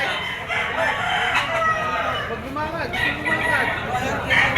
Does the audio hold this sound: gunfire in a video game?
no